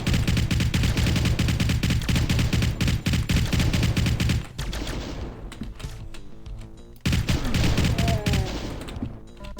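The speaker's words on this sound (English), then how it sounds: "A Spider Mastermind at quite a long distance is now a bit more than just an irritating chain gunner." Rapid, sustained chaingun fire from a Spider Mastermind in Doom rattles continuously for several seconds, drops to scattered shots and game noise, then resumes in dense bursts at a distance.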